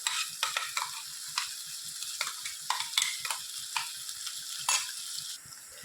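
An onion, cumin and coriander paste sizzles and fries in a pan for prawn curry, a continuous close hiss broken by regular scraping stirs and small ticks of the utensil.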